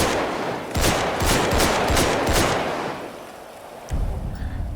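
Rapid automatic gunfire aimed at a FIB UFO prop in GTA 5, a loud burst of closely spaced shots for a couple of seconds, a brief lull, then another round of firing.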